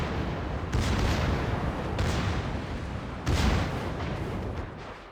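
Warship gun salvos in a naval video game, with several heavy booming blasts and rolling rumble arriving in loose succession at moderate loudness, no voices.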